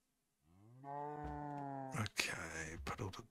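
A Minecraft cow lets out one loud, drawn-out moo. Sharp, clattering game sounds follow right after it.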